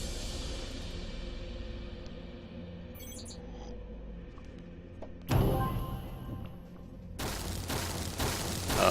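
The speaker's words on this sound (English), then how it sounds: "Oh, more explosions." Explosions in the tactical video game Frozen Synapse Prime: a quiet stretch of game ambience, then a sudden loud burst followed by a second sharp, noisy blast that carries on to the end.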